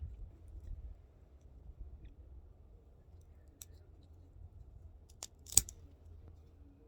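A cigar cutter snips through a cigar in a quiet room: a single crisp, close cut after a few faint clicks of positioning.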